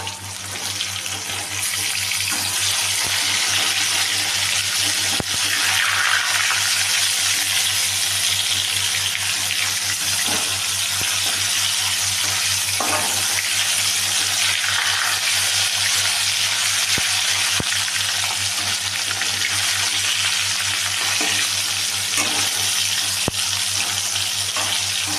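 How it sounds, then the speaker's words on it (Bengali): Pieces of bhola fish frying in hot oil in a kadai while being turned one by one, a constant loud sizzle with occasional soft clicks, and no voices. "গরম তেলে মাছগুলো ততক্ষণ ভেজে নিই।"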